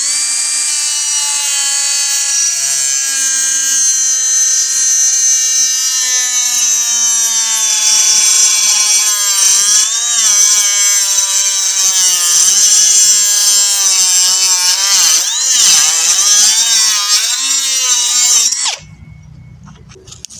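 A Hyper Tough 12V cut-off tool on a 4-amp battery runs continuously, a loud, high, steady whine with slight wavering pitch for about nineteen seconds before cutting off abruptly.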